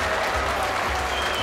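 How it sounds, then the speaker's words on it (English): A packed boxing crowd at the Paramount breaks into loud, dense applause after a fight round, with a short burst of steady clapping filling the hall. "The packed crowd here at the Paramount puts their hands together."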